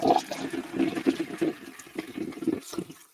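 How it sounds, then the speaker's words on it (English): A toilet flushing nearby, a steady rush and gurgle of water filling the bowl for a few seconds with no voices. "they need to go down the toilet and be flushed"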